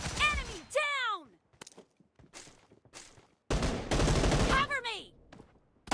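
Gunfire in the battle royale game BGMI during a team deathmatch shotgun challenge: sharp shot bursts crack loudly in two clusters, while a game voice calls out between them.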